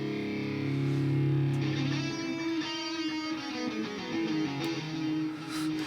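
A distorted electric guitar plays sustained, overdriven chords with thick harmonic buzz, steady and fairly loud throughout.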